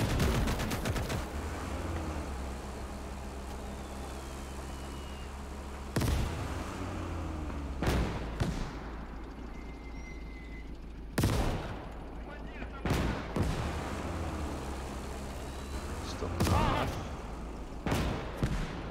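Gunfire and mortar blasts in the WWII game Gates of Hell: Ostfront, sharp loud shots and heavier booms every few seconds over a constant low battlefield rumble.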